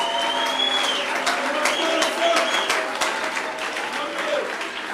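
A church congregation applauds during a worship service, a dense, sustained clapping from many hands with voices calling out and raised speech mixed in, loud and near throughout.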